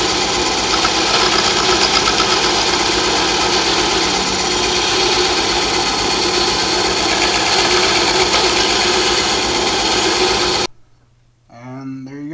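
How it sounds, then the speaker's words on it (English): A bandsaw cutting metal tabs runs loudly and continuously for about ten seconds, a steady mechanical whine and buzz, then cuts off and a voice begins speaking. "So I've got a bandsaw, so that's what I'm going to use."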